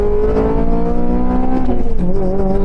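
A sports car engine hums loudly and continuously, with a strong low tone that shifts and dips in pitch as it revs.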